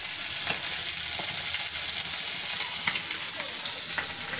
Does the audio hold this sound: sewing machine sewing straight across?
no